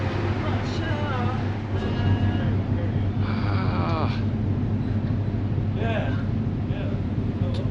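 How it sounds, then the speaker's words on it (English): Big ferry engines rumble in a steady low drone as the ship leaves England, with a constant broadband hum and wind-like rush throughout, while people talk briefly over it. "Big engines."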